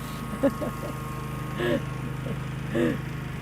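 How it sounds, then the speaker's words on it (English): A lawn mower drones steadily in the background on Nokonoshima island in Japan, a low continuous engine hum under a voice speaking nearby. "they've just decided to mow the lawn here"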